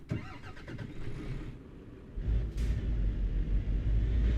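A truck engine in a sim racing game rumbles low, then its note rises as the vehicle pulls away, with a steady mid-pitched drone holding near and constant after the start.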